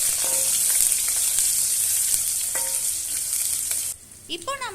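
Onion and garlic sauté steadily in hot oil for a tamarind curry, a loud continuous sizzle with occasional stirring clicks, before a voice briefly starts to speak near the end.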